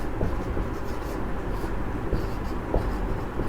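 Chalk or marker writing on a board during a Class 12 physics lesson on electric flux, a steady scratchy scraping that runs continuously at moderate level, with no talk over it.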